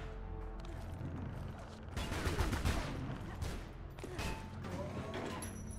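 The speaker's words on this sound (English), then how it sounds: "Oh god, they keep shooting me." Dense gunfire from enemies shooting in Tomb Raider: Legend, a sustained fusillade of rapid overlapping shots with louder bursts partway through, carrying on at steady volume with no talk.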